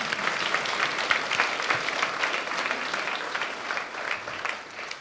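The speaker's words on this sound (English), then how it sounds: "Give yourself a round of applause." Crowd at a university campus talk breaks into sustained applause, many hands clapping in a dense, steady wash that stays at a moderate level before easing slightly at the end.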